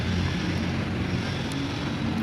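Low, steady engine rumble of Mahindra and Swaraj tractors running along a road divider, with a constant broadband roar and faint wind noise, no speech.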